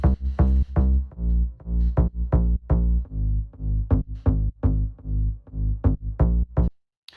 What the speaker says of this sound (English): The sample that I picked here is actually at 124 BPM and it sounds like this.